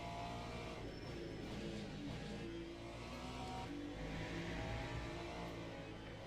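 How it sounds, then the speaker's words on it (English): A prototype race car in the Le Mans Ultimate racing game drones past with a steady, faint engine whine and a low rumble throughout, without a sharp pass-by peak. "Here comes another prototype car."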